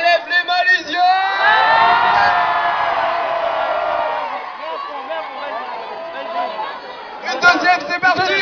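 A large concert crowd in Lisieux, Normandy cheers, whoops and shouts loudly with hands raised, a dense roar that swells and holds for several seconds, then breaks into scattered yells and chatter.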